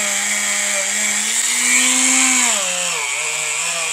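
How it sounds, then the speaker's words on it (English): A handheld rotary tool with a wire wheel cleans a metal component near a bolt and bearing pivot point. It gives a steady, close, high whine whose pitch rises briefly and then dips as it is worked against the part. "I'm going to do that with the rotary tool and the wire wheel."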